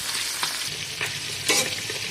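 Two fish fry in a pan alongside coriander, giving a steady close sizzle broken by a few quick scraping stirs, the last one loudest, with no voices.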